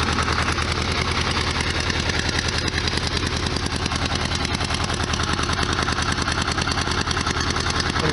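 A 1973 VW Super Beetle engine with hydraulic lifters idles nearby. It gives a loud, steady, even chugging that holds unchanged throughout with no voices.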